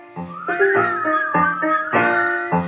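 A person whistles a bright, cheerful tune of clear, sustained notes in short melodic phrases, close and loud with no talking.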